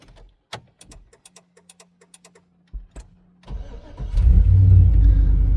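An LS-swapped OBS Chevy Tahoe fires up at night. Scattered clicks and a faint electrical whine come first, then the starter cranks briefly and the V8 catches into a loud, rumbling idle close by.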